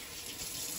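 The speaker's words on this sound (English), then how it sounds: "So let me just put some water on my hands." Water runs steadily from a tap over hands at a sink, a close, continuous hiss and splash lasting under a second.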